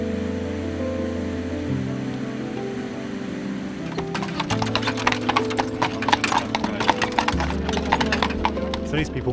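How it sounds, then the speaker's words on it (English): Horse-drawn carriage heading along the road to a lake in Poland: steady, crisp hoof clip-clops start partway through and continue rhythmically over a constant low tonal drone. "riding to the lake on a horse carriage"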